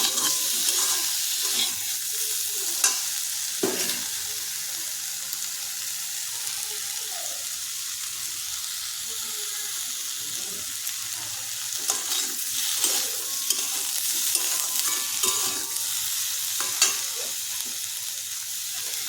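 Mashed green banana paste sizzling and crackling in a hot pan, a continuous close frying hiss with occasional stirring scrapes and pops, no voices.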